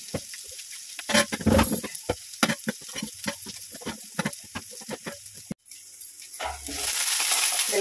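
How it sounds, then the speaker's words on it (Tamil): Onion, green chillies and curry leaves sauté in a hot pan with oil. Close scrapes and clinks of a spoon stir them in short bursts over a steady sizzle, which swells into a louder continuous fry near the end. "ஒரு பெரிய வெங்காயம், 2 பச்சை மிளகு போட்டு நல்லா வதக்குறேங்க."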